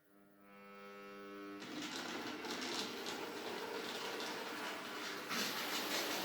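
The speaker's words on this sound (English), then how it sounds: "That's the sound of the Triang motor in the class 31." A low electric hum with a tonal whine starts up, then a loud, steady buzzing drone from a Triang motor in a Class 31 model train runs continuously at close range, at full power.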